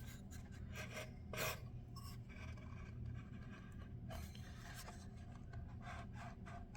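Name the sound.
wooden dowel sliding into hole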